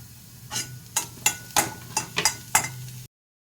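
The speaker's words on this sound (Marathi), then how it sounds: "लसूण मिरची भाजत आल्यानंतर कांदा घालायचा आहे त्याच्यामध्ये" Garlic and chilli roasting with onion in a pan for green pea chutney, with about six rhythmic spatula scrapes against the pan over a faint, steady sizzle.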